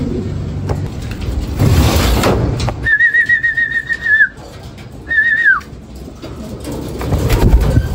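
Racing pigeons arriving back at the loft after release from Pagbilao, Quezon: bird calls and wing flutters up close, with two clear whistled tones in the middle and background clatter around them.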